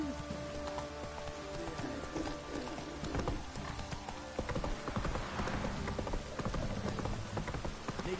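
Hooves clop steadily as a horse moves along in Witcher 3, a soft rhythmic trotting under a dense bed of ambient game sound and faint rain-like hiss, fairly quiet throughout.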